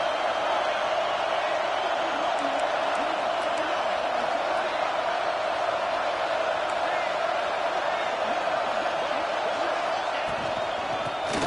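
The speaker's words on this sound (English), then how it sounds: "this big crowd doing everything possible to inspire this defense down here near the goal line" Large stadium crowd at a Clemson football game roars in a dense, sustained wall of noise as the defense holds near the goal line, loud and continuous throughout.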